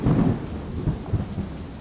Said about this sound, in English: Right now we are having a monsoon